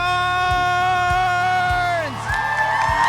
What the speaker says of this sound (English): Everybody, please give a huge round of applause,